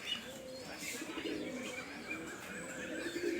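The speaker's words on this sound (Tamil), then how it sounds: "இந்த மாதிரி உருமுறைனால தான் வீட்டில் புறா வளர்க்கக்கூடாதுன்னு சொல்லுவாங்க" Male pigeon cooing close by in a home loft, a continuous low throaty rumbling coo with soft chirps from other birds behind it.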